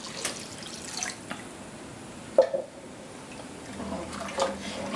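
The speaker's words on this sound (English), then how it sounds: "I'm going to add the rest of the water" Water poured into a pot of oxtail stew in a home kitchen, a soft splashing and trickling with a few louder pours and clinks, heard close up with little else around.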